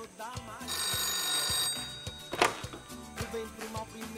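A telephone rings over rhythmic background music, its bell-like tone bursting out clearly for a moment and then repeating more faintly.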